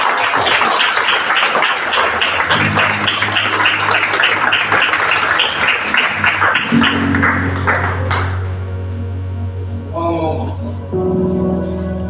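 A church congregation applauds in dense, sustained clapping, with voices and sustained organ or keyboard tones entering partway through and continuing as the clapping thins out.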